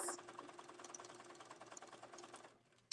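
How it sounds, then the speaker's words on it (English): A sewing machine stitching fabric runs in a steady, fast mechanical patter, close and clear, for nearly three seconds before stopping abruptly. "So I'm going to sew down here real quick."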